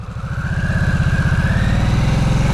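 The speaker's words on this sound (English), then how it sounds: "I like the sound of this bike." A 2022 Harley-Davidson Nightster motorcycle engine pulls hard in first gear, a loud, close, throbbing exhaust pulse that quickens steadily as revs climb, with a rising whine running over the top.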